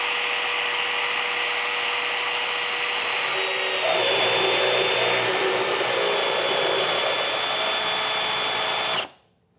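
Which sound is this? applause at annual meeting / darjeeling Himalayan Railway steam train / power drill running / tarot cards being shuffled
power drill running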